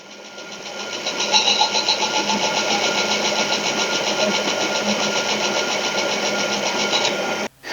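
A skew chisel is being shaped on a 120 grit grinding wheel for woodturning, giving a loud, steady mechanical whir and grinding hum that holds without a break before stopping abruptly.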